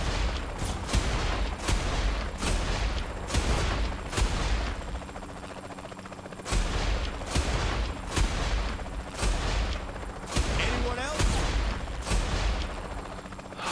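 Rapid gunfire and explosions crack through a Saints Row: The Third firefight, loud repeated bursts of shots in quick clusters with brief pauses between volleys, no voices on top.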